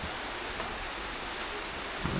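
Heavy rain falls steadily on a winter day in North Macedonia, a dense, even hiss with no pauses, fairly close and unbroken throughout.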